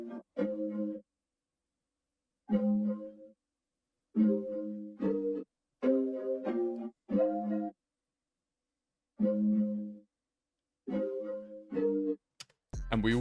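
Chopped, bouncy music sample loop built for a hip-hop beat, playing as short stacked-chord stabs in a stop-start rhythm separated by clean silences, with a brief burst of a denser sound right at the end.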